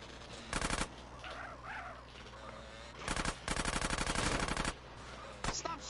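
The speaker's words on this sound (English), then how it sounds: "Stop shooting that thing right next to my ear." Rapid automatic gunfire from GTA San Andreas, loud close bursts of machine-gun fire repeating in three or four volleys with brief pauses between them over a steady background hum.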